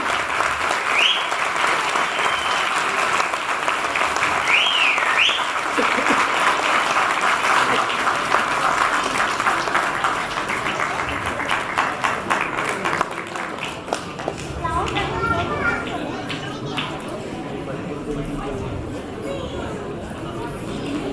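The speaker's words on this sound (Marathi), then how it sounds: "सगळ्यांनी टाळ्या वाजवून स्वागत" Applause from an audience welcoming a guest, a world motorcycle traveller, at a Marathi community Ganapati festival gathering in Manchester, with sustained clapping filling the hall for most of the stretch and crowd chatter beneath.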